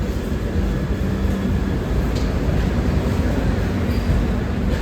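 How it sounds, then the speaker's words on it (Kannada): A train rolls through a railway station, a loud, steady low rumble and rattle of wagons filling the whole stretch without pause, close and dominant. "ಒಂಥರ ಟ್ರೈನ್ ಬಂದಿದೆ, ಹೋಗ್ತಾ ಇದೆ"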